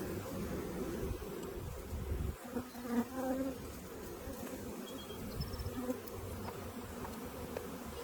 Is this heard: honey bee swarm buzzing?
yes